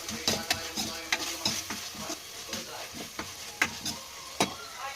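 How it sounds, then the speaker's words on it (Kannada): Chicken gravy masala with tomato fries in a pan, crackling and spitting in sharp irregular pops over a soft sizzle, with stirring scrapes, fairly quiet and close, no voices. "ಇದು ಫ್ರೈ ಆಗ್ತದೆ ಸ್ವಲ್ಪ ಆಗಿರೋದ್ರಿಂದ ಚಟಪಟ ಅಂತ ಸಿಡಿತಾ ಇದೆ"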